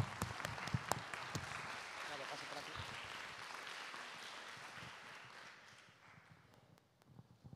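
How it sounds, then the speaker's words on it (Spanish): Applause from an audience at a feminist thought school event in Asturias, a steady broadband patter that fades over several seconds, with laughter and voices mixed in underneath. "aplaudamos"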